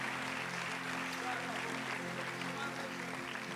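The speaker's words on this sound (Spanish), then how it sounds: "Clap your hands, everybody." Church congregation applauding during a sermon, a steady wash of clapping heard at a moderate distance with talk over it.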